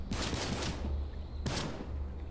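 Gunfire in the video game The Cycle comes as a rapid burst of shots, then a brief pause and one more sharp shot, all heard over a steady rumble of game noise.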